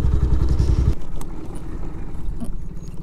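A Bajaj Pulsar 220F motorcycle with an Akrapovic exhaust opens with a loud, throbbing close-up burst, then settles into a lower, steady idle rumble.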